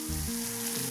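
Green chillies hiss and crackle as they fry in hot coconut oil alongside ginger for Kerala puli inji, a loud continuous sizzle up close and without talk.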